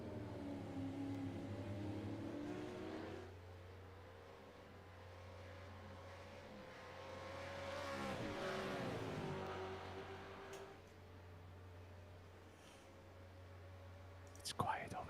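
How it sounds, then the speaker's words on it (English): V8 Supercars sim racing engines drone steadily at moderate level in an endurance race at Sandown, the tone rising and falling as cars accelerate, with a brief swell midway and quiet talk beneath. "Just the sound of roaring engines."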